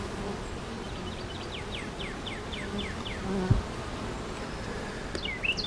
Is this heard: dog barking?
no